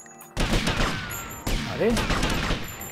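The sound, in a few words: gunfire in video game GTA Vice City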